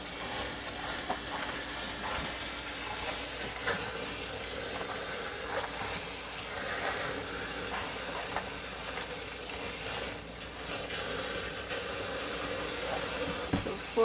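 Sprouted grain for cattle fodder is rinsed under running water, a steady hissing wash of water with soft shifting sounds throughout.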